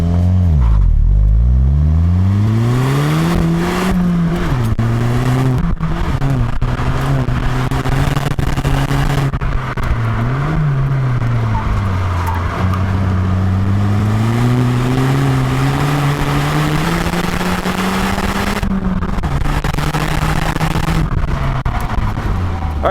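A 2016 VW GTI with a turbocharged 2-liter engine and 6-speed manual accelerating hard, the engine note climbing in pitch through several gears with brief dips at each shift, loud and close throughout.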